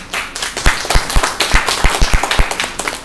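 An audience at a Thailand-Japan school stage event claps steadily, with crisp individual hand slaps standing out sharply over a bed of lighter, scattered applause.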